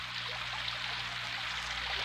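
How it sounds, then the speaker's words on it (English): A steady, dense hiss of falling rain, a sound effect played on a 1974 AM radio broadcast, continuous and even over a low hum with no talking. "Cue the rain."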